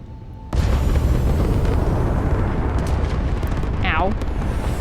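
Space combat in the video game Starfield: a loud, sustained roaring blast that starts abruptly and rumbles on without a break, with a brief chirping sound near the end.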